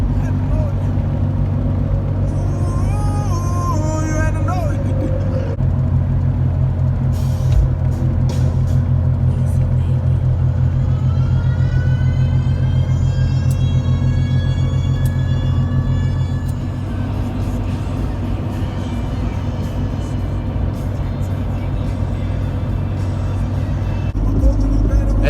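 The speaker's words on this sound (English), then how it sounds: "It doesn't help that John's truck is way out of alignment, so we're hopping all over the road right now at 80 miles an hour" A Cummins diesel pickup truck with badly misaligned wheels cruises down a road at 80 mph, giving a loud, steady engine drone and road rumble from inside the cab.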